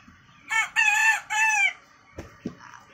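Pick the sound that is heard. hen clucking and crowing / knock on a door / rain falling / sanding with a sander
hen clucking and crowing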